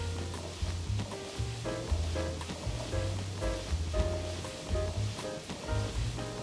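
Grated carrot and oats stir-fried in vegan butter, a steady close sizzle broken by repeated scraping strokes of the spatula against the pan.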